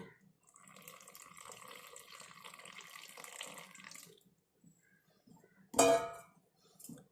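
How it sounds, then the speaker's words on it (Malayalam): Warm tea water is poured onto herbal hair dye powder as a soft, steady trickle for several seconds, then a short louder splash and clink follow in a quiet room. "നമുക്ക് ഇതിനകത്തേക്ക് ആവശ്യത്തിന് ചായ വെള്ളം ഒഴിച്ചു കൊടുക്കാം"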